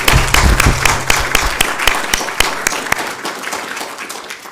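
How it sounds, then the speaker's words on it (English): An audience at a university inaugural lecture claps for Professor Matthew Chersich, loud at first, then thinning out to a few scattered, distinct claps as the applause fades. "Matthew requires a huge round of applause."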